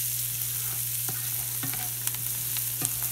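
Peppers and onions frying in a pan for pork carnitas tacos, with a steady close sizzle and occasional spatula taps and stirring scrapes over a low electrical hum.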